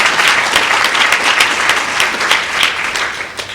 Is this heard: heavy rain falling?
no